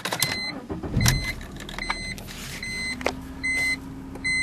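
A 2003 BMW 318i starts up: a short whir and clicks from the car's electrics, then the engine settles into a low steady hum. Electronic chime beeps sound over it inside the car.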